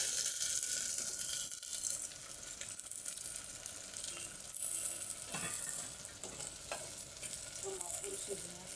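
Tomatoes tipped into a pan of frying ginger and garlic for an egg bhurji, with a steady loud sizzle and scraping stirring throughout, no voices.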